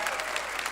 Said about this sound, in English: How about a round of applause for the boys in the band